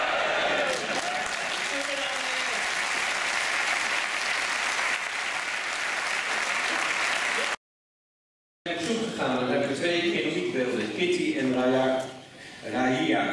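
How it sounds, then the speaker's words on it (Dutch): A theatre audience at a farewell evening for Ruud in a Dutch playhouse claps warmly and loudly for several seconds, then the sound cuts out briefly before voices and sound pick up again. "Vandaar nogmaals een warm applaus voor Ruud."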